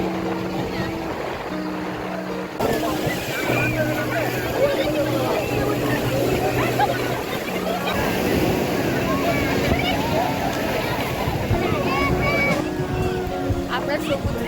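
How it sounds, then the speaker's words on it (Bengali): A crowded sea beach at Puri fills the air with constant surf and the wash of many voices, with a person speaking over the dense, unbroken ambience. "আজকে প্রচণ্ড ভিড় সমুদ্রে"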